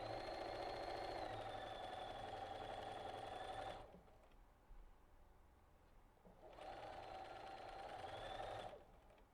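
A sewing machine stitches a quilt seam on a Scandinavian Snowflake quilt block, running steadily for about four seconds, pausing, then running again for another couple of seconds, close and clear with no talk.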